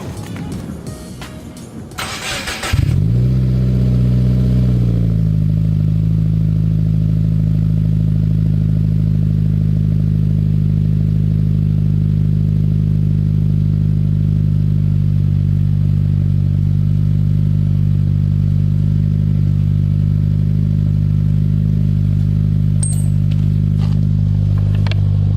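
A 2018 Subaru WRX fitted with an Invidia N1 race single-exit exhaust fires up after a short crank, then settles into a steady, loud, deep idle that holds unbroken to the end.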